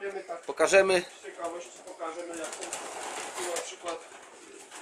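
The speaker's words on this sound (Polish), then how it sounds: "Tutaj mamy te gołębie, które czekają na zrobienie zdjęcia" Racing pigeons coo in a loft, a soft steady murmur of low calls running under a voice as he talks over them.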